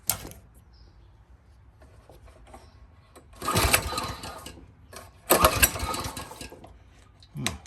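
Coleman CT200U minibike small engine running on choke, a muffled idle broken by two loud sputtering bursts of revving, each lasting about a second and a half.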